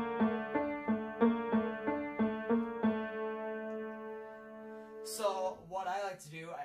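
A piano plays the two-bar intro of CM Punk's wrestling theme as a string of evenly repeated chords for about three seconds, which ring out before a person begins talking.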